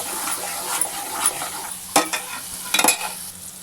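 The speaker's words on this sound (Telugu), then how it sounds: "టమాటాలు బాగా ఫ్రై అయ్యాక తగినంత ఉప్పు వేయాలి కొంచెం పసుపు వేయాలి అటు ఇటు తిప్పాలి" Tomatoes and potatoes frying with onions in a pan while a spoon turns them, a loud steady sizzle broken by scraping, clattering stirs close by.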